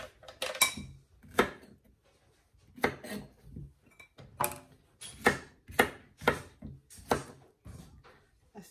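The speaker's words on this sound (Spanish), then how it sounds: "Y hasta terminar de picar nuestras calabacitas." A knife chops zucchini on a cutting board for a cream of zucchini soup, giving about a dozen sharp, close clacks in an uneven rhythm with quiet gaps between them.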